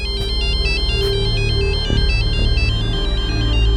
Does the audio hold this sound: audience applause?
no